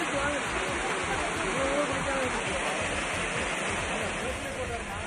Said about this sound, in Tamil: அருவியிலிருந்து நீர் கொட்டுவது வெள்ளியை உருக்கி ஊற்றுவது போல காட்சியளிக்கிறது